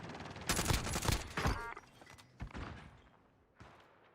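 Bursts of video game gunfire crackle in a first-person shooter match, with dense rapid shots and thumps at first that thin to scattered, quieter reports, fairly distant and without speech.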